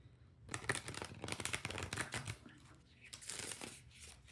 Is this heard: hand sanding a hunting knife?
no